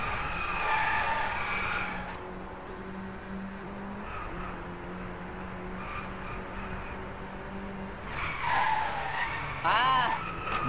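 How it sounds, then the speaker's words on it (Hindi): A car in the racing game Driveclub drifts through a hot hatch cup race, tyres squealing and skidding steadily over a droning engine, with excited talk and crowd-like noise layered on top. "बाप रे क्या गजब ड्रिफ्ट खाई मैंने, गजब था वो, फिर से ड्रिफ्ट"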